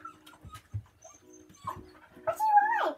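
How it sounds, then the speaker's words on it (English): A pet dog whimpers and whines indoors, with a few soft yips and a longer, rising high whine near the end, close to the microphone amid light movement noise. "Get the noises, my dog came in."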